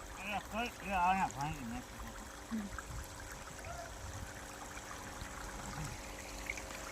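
Irrigation water runs across a farm field with a continuous low trickling wash. Someone talks over it during the first few seconds, then the water carries on alone.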